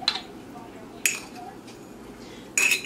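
A spoon clinks against a bowl while mixing sweet potato pudding, three bright metallic taps spaced apart over a quiet low background, close by.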